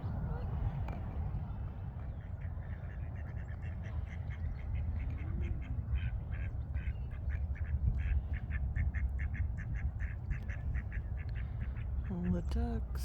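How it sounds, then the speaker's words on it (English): Ducks quack repeatedly in a rapid, chattering run at a lake under a dark, stormy sky, over strong wind rumble, with a voice briefly heard. "All the ducks."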